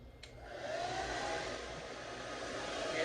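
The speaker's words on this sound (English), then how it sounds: "And I'm blow drying this on high heat." Blow dryer running on high heat while drying damaged low-porosity hair, a continuous loud close whoosh after a brief click at the start, steady throughout with no talk.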